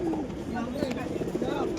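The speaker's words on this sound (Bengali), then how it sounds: "একটি জাগ কবুতর দেখাচ্ছি তোমাদের" Pigeons coo softly at the Tuesday bird market in Beldanga, a low, rolling warble under a man's nearby speech amid faint market bustle.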